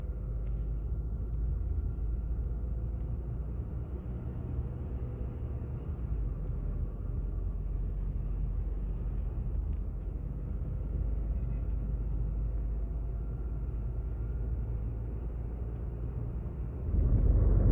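A Tata Safari drives through city traffic, heard from inside the cabin as a smooth, steady low road rumble with faint engine hum, swelling briefly louder near the end.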